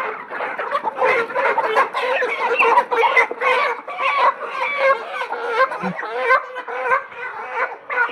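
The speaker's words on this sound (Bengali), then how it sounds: "মুরগিগুলো ধরা হচ্ছে" Chickens cluck and squawk in loud, busy bursts as they are chased and caught outdoors, their agitated calls running continuously and close by.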